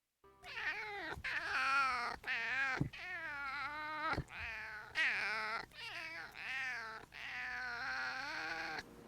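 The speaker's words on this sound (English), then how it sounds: "Cat sounds." A cat meows repeatedly and loudly in a sound sample, long drawn-out wailing calls following one another with brief gaps, close and clear with no other sounds.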